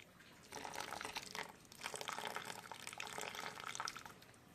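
Heated water poured slowly into Castile liquid soap paste to dilute it, a soft continuous trickle and splash that starts after a brief pause and runs steadily to the end, fairly quiet.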